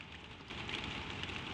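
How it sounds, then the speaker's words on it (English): Steady soft rain pattering on a slate roof, an even hiss that swells slightly partway through, with no voices. "Soft rain on the slates."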